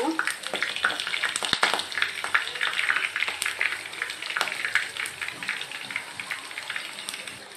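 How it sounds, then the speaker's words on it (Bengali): Prawn pitha frying in hot oil: a steady, close sizzle with dense crackling and popping bubbles, fairly loud and continuous, with a few sharper pops standing out. "পিঠাগুলোকে আমি একদম লাল লাল করে ভেজে নিব।"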